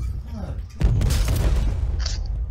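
A heavy tank cannon blast booms in Call of Duty Black Ops Cold War, one loud deep hit followed by a rumbling tail under game noise.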